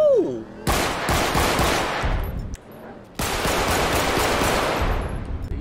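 Rapid automatic gunfire in GTA V with a realistic weapon sounds mod, two long loud bursts of rattling shots separated by a short pause, with a faint voice at the very start.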